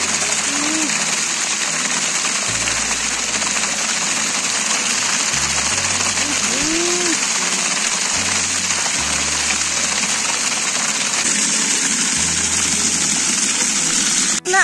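Water gushes steadily from a village water source outdoors, a continuous broadband rush that holds throughout, with a low engine-like hum and occasional voices in the background.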